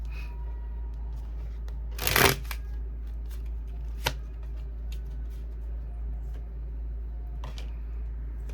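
Tarot cards are shuffled in a short, crisp riffle burst near the start, followed by a single sharp tap and a few faint rustles against a steady low background hum, with no talking.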